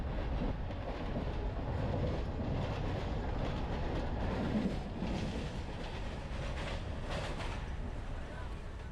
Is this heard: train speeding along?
yes